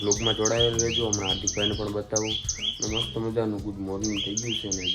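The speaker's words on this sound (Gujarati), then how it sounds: "ચકલા બોલે છે, એકદમ મસ્ત મજાનો અવાજ આવે છે" Sparrows chirp in rapid, repeated bursts close by, mixed with someone talking over them the whole time.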